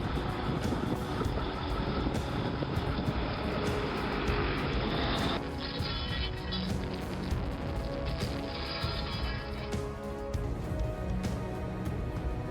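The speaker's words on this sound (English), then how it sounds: "this stump grinder is incredible. Look at all that sawdust flying everywhere" A large stump grinder chews through a tree stump, a loud, close, continuous engine roar with churning, grinding texture that shifts slightly partway through, and no talking.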